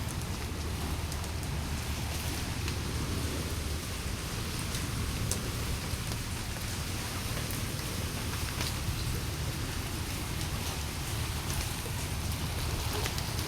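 Steady light rain from a monsoon storm falls throughout, a dense, even patter of drops on a surface with no voices, holding a constant moderate level.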